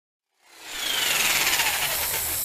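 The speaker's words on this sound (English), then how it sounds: "I'm going to cut it out with the jigsaw" A jigsaw saws along a curved line in a wooden motocross kicker ramp, starting after a short silence and then running as a steady, loud buzzing cut with no voices.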